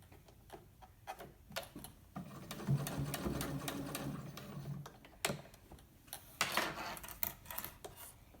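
A sewing machine stitches a fabric face mask in short bursts, rapid mechanical clatter with a longer continuous run in the middle and quiet clicks between stops, fairly soft and close.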